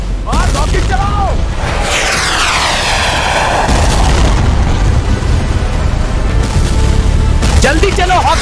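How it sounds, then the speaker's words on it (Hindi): Cartoon rockets streak and explode in an ant war, with loud booms, descending whooshes and roaring rumbles filling the scene continuously amid shouting. "और रॉकेट चलाओ।"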